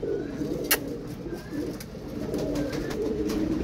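Soft, low cooing of pigeons, a male and a female, blends into steady background noise, with a brief sharp click partway through.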